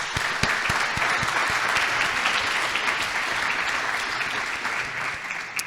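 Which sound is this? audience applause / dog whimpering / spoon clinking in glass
audience applause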